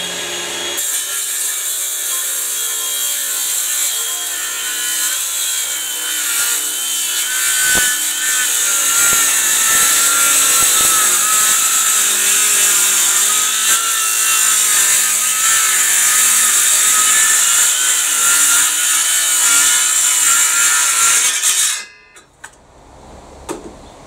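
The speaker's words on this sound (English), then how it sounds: "Just going to cut freehand along the line I've drawn there." Hand saw cutting freehand through thick laminated wooden boards for an outdoor table, with a steady loud rasping back-and-forth stroke close by for about twenty seconds before stopping abruptly.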